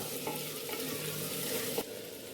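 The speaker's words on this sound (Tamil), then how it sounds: "உப்பு போட்டு நல்லா கிளறி விடுங்க" Chopped tomatoes with salt frying in a pan give a steady close sizzle, stirred with a few scraping strokes and a sharp clack of the spoon near the end.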